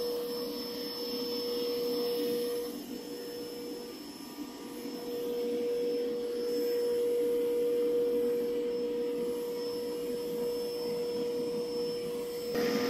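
A Dreame X50 Ultra robot vacuum cleans a long-pile rug with a steady, close suction roar and a constant high whine that dips slightly midway, and no one speaks.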